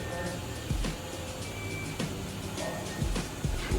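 A car lift lowering a C5 Z06 Corvette in a garage: a steady mechanical hum with periodic clunks as it descends, fairly loud and close, with someone talking faintly at times.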